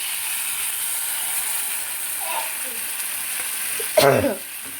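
Poppy seed and cashew paste frying in a pan gives a steady, close sizzle, with a short burst of scraping and stirring near the end.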